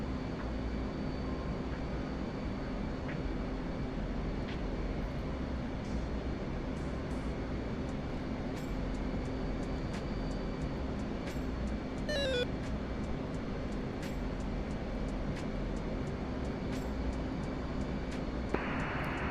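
An F/A-18 Hornet jet on approach to an aircraft carrier in DCS, a steady loud engine roar and rumble that holds evenly throughout, with faint radio-like tones and clicks over it.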